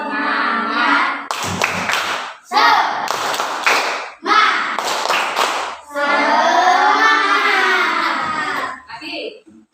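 Classroom children beat out the 'tepuk semangat' clap game, three quick bursts of sharp rhythmic hand claps mixed with chanted voices, while a teacher's voice leads before and after.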